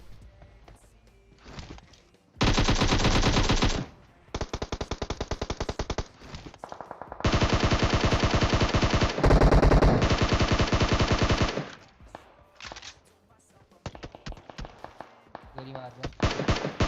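Automatic gunfire in the battle royale game PUBG Mobile: long, loud sustained bursts of rapid shots with short gaps, then sparser, choppier fire toward the end.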